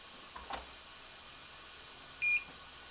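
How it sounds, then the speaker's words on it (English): Faint, thin electronic beeps from a 3D printer, a brief tone and a short high bleep over a quiet background hum. "The continuous beeps are kind of annoying."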